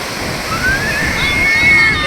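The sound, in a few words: small sea waves washing in at RK Beach, Vizag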